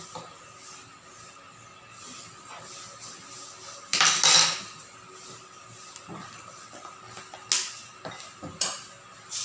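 Oreo cake batter of milk and baking powder is stirred in a bowl, producing soft swishing under a quiet background, broken by a few sharp clinks of a utensil against the bowl.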